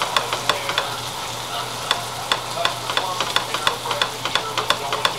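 Cream corn being stirred in a pan, a spoon scraping and tapping in a steady, uneven rhythm close by, with faint sizzling and a low hum underneath.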